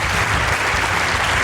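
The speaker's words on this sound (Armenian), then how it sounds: "իսկ դուք բարձր ծափարեք խնդրում" An audience applauds introduced guests in dense, steady clapping, loud and continuous throughout.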